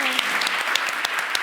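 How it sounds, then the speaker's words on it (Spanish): Audience applause at a crime-fiction festival event in Getafe, a dense steady patter of many hands clapping close by, with a faint voice underneath, short and continuous. "Y solo os pido, por favor, un aplauso para ellos."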